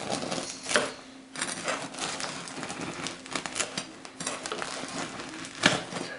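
A knife saws through a loaf of crusty no-knead bread, giving repeated close crackling strokes with sharp crunchy bursts as the crisp crust gives way, no talking.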